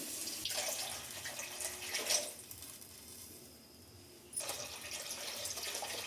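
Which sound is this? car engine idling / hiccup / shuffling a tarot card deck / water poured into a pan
water poured into a pan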